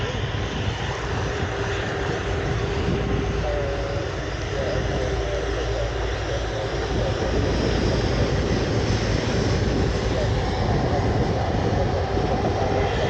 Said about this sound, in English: And another Jet2 Airbus A330 will come past us in a second